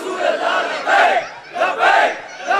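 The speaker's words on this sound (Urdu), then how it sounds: "لگاؤ بچے نعرہ لگاؤ، زور سے لگاؤ، کھڑے ہو کے لگاؤ" A group of children loudly chant a slogan at a religious gathering, in repeated surging shouts of many voices, with brief dips between each call.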